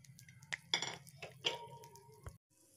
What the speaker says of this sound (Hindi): मखाने को लो फ्लेम पे ही रोस्ट करिएगा।